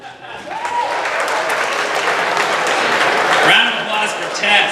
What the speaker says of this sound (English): Round of applause for Tess